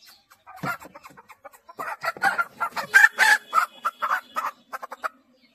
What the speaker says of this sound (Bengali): আমার কাছে বর্তমানে একটা মুরগি আমি রাখছি, যেটার নাম হচ্ছে সিল্কি বার্ড।